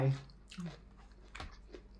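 Chewing and biting on sticky rice with young green chili dip and boiled egg, soft squishy mouth sounds close up, with someone talking over part of it.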